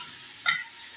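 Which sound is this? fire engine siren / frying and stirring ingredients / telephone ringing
frying and stirring ingredients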